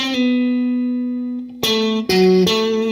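An electric guitar plays a short bluesy lick: a sustained bent note, then two quick notes sliding upward from the minor third into the ninth, with slightly distorted, ringing tone.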